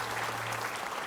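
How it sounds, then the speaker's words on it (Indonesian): Studio audience applauding a guest on an Indonesian parody parliament comedy show, a steady dense patter of clapping that fills the whole moment without any voices over it. "kita berikan tepuk tangan dong"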